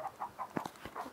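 Chickens in the Minecraft video game give short, clipped clucks in a quick sequence, clear and close, with no talk.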